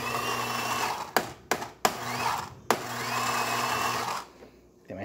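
Gaggia Anima Prestige espresso machine running a cappuccino cycle, with a steady mechanical hum and whir broken by several sharp clicks and clunks before the motor winds down near the end.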